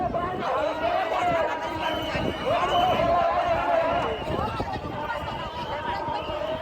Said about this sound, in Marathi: भाविकांची खूप मोठ्या प्रमाणात गर्दी झालेली आहे सप्ताहासाठी.